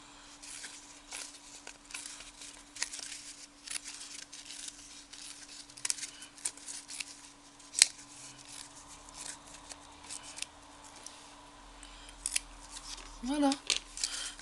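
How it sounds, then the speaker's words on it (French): Small scissors cutting around a fabric or paper shape for a simple tricycle craft, a quiet run of close, crisp snips at an uneven pace with a faint steady hum behind. "je prends les petits ciseaux, ça marche mieux qu'avec les grands"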